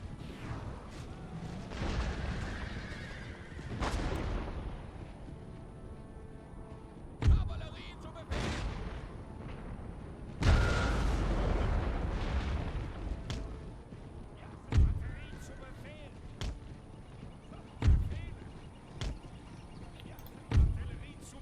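Cannon artillery fire in the Empire: Total War game, a Prussia campaign battle, with heavy booming shots landing every few seconds over a continuous rumbling battlefield din.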